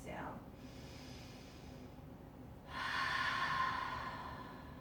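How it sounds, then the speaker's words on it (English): A slow, deep breath during a yoga session: a soft airy inhale fades, a quiet pause follows, then a fuller, louder exhale rushes out, all close and calm. "you just listen to the deep inhale,"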